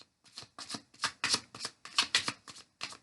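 Tarot cards are shuffled and drawn in a quick series of crisp riffling bursts, about nine close, distinct flurries with short pauses between them and no voices.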